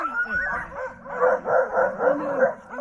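Sled dogs bark, yip and whimper in an excited, overlapping chorus aimed at a moose ahead, a dense run of rising yelps that swells louder through the second half.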